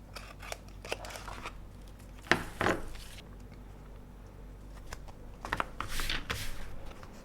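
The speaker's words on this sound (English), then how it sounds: "I'm finishing it with the scissors now" Several crisp snips and cuts of scissors through leather, a few louder bursts among quieter scraping and handling noises, close up with no talking.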